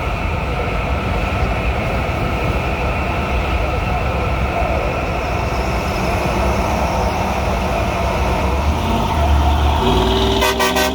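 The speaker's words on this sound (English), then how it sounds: "I like your air horns too. I'm pretty sure that blasted my speakers out" Truck air horns blast loudly over a steady roar of road and engine noise, a sustained, heavy blare that grows stronger with a harmonic burst near the end, with faint radio chatter underneath.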